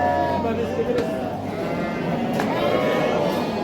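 Sheep and lambs bleat repeatedly at a busy, crowded livestock market in Taraz, Kazakhstan, the calls mixing with steady background chatter and crowd noise.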